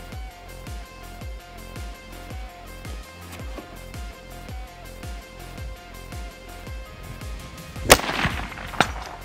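Rifle fire at a shooting range, a long run of sharp, evenly spaced reports, close and loud, ending with two louder distinct cracks.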